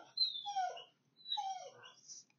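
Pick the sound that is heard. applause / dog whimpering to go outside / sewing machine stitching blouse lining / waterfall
dog whimpering to go outside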